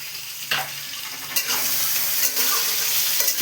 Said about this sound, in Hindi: পেঁয়াজটা ভাজা হয়ে গেল, আলুটাও ভাজা হয়ে গেল